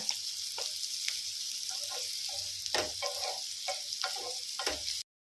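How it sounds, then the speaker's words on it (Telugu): A tempering for gunta ponganalu fries in hot oil, a soft, even sizzle carrying on throughout, broken by light stirring scrapes and ticks of the spoon, with no speech. "పచ్చివాసన పోయే వరకు ఒక 2 minutes వేయించుకోవాలన్నమాట"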